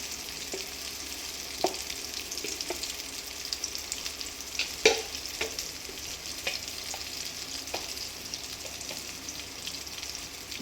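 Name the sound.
stirring spices frying in a pan for vegetarian pulao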